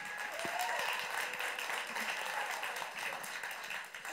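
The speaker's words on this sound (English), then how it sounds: "Another round of applause" A concert-hall audience applauds a veteran singer during an on-stage tribute event, a steady wash of clapping held at moderate distance, fading slightly toward the end.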